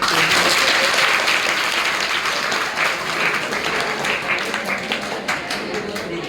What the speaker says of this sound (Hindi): जो बहन ने क्वेश्चन करा है उसके लिए जोरदार ताली बजा दो।